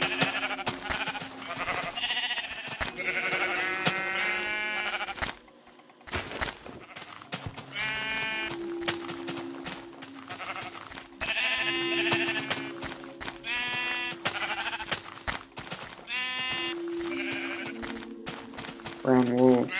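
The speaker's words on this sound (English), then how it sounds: "Brown sheep. Tons of them." Repeated sheep bleats from a flock of brown sheep in Minecraft, several overlapping calls across the whole stretch over steady in-game background sound, with a voice talking at times.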